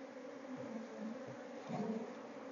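Honey bees hum around an open hive during a frame inspection, a faint, continuous buzzing with small swells as individual bees pass close, and no voices.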